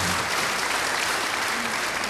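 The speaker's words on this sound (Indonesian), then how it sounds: "Beri tepuk tangan yang baik buat dia." A church congregation claps warmly for someone during a sermon, a loud, continuous wash of applause filling the space.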